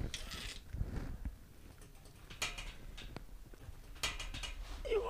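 A rope being hauled through a multi-block pulley system with a jumar ascender, giving intermittent mechanical clicks, ratcheting and creaks in short bursts up close, with rustling between pulls.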